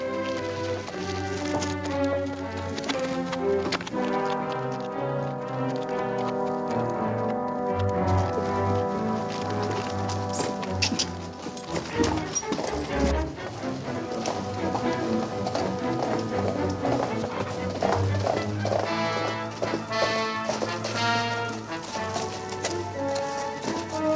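Horses galloping in a Western film scene, a steady rhythmic clip-clop of hooves running throughout, layered under a dense orchestral score that stays loud the whole time.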